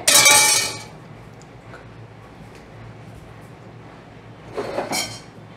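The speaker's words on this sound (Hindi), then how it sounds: "अभी इसके ढक्कन जो है ना प्रेशर का ढक्कन इसके ऊपर लगाकर" A metal pressure cooker lid is fitted onto the pot while mutton curry cooks, with a sharp clanking rattle at the start and a second, softer clatter near the end, separated by quiet.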